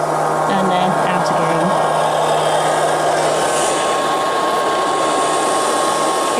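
A Liectroux B3000 robot vacuum cleaner runs with a steady, close whirring drone that holds constant throughout, with a faint tonal hum and a few quiet background noises.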